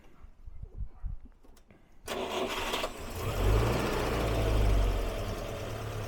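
A Volga 24 car engine cranks and catches at about two seconds, then settles into a steady, loud idle with a deep low rumble.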